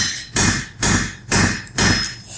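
Four evenly spaced, loud ringing hammer blows strike hot metal close up while forging the shaft of a Mjolnir pendant, each impact bright and metallic with a short decaying ring.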